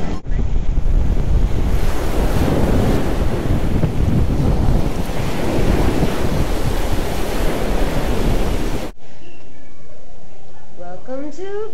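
Loud ocean surf and gusting wind buffet a microphone at the beach, a continuous roar for about nine seconds before dropping to quieter background with faint voices afterward.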